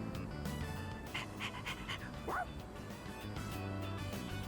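A stray dog in the Persona 3 video game barks, yips and pants over steady game background music, with a short sharp bark in the middle.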